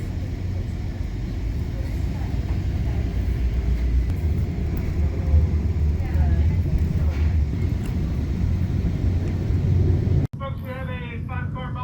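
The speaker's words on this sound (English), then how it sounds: "We are riding in Bombardier bi-level coaches hauled by an MP36PH-3C locomotive" Inside a Caltrain Bombardier bi-level coach hauled by an MP36PH-3C locomotive, a constant low rumble fills the ride. Near the end it cuts abruptly to a quieter passage with a voice.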